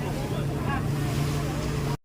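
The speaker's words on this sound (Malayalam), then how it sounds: "അങ്ങനെ ഞങ്ങളുടെ ബോട്ട് ചലിച്ചു തുടങ്ങി കേട്ടോ" A speedboat runs at sea off Pattaya, Thailand, with a steady close engine drone and wind buffeting the microphone, cutting off abruptly at the end.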